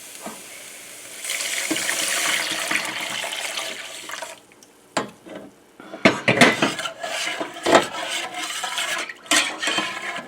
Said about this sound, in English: The next step is to add the broth.